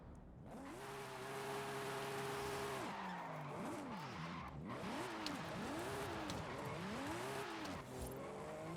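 A drift car in Forza Horizon 5 revs hard with its wheels spinning near 5,000 RPM, the turbo engine droning steadily then surging and dipping in repeated swoops as the tires squeal through a continuous slide.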